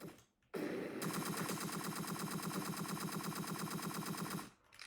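Sustained automatic gunfire from the video game Entry Point rattles in one long, evenly spaced burst, loud and close, starting abruptly after a short silence and stopping near the end.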